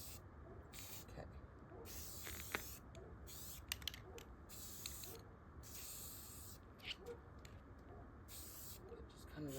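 An aerosol spray paint can hisses in repeated bursts of varying length, some brief and some lasting a second or more, close by, while a person talks intermittently between and over them.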